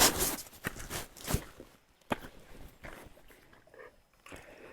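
Heidi, a Yog terrier tracking dog, moves about near the microphone, with scuffling paws, rustling and a few sharp knocks at the start, then softer shuffling movement.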